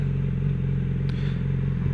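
A 2016 Yamaha YZF-R6 fitted with a K&N air filter runs at a steady, throaty engine drone. The sound is loud and close, with a constant low hum and no distinct rev peaks.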